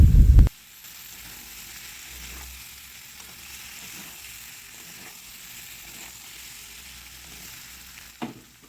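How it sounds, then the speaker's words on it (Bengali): Grated ginger and chopped green chillies sautéing in a pan make a soft, even sizzle, opening with a brief loud thump and broken by one knock near the end. "এবার সবটা ভালো করে কষিয়ে নিতে হবে যাতে আদার কাঁচা গন্ধটা চলে যায়"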